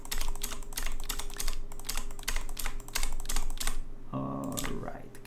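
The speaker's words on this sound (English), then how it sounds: "can you hear the clicking of the keyboard?" Rapid clicking of a computer keyboard under a live Astroneer game stream, steady typing clatter that stops near the end as a brief tonal game sound takes over.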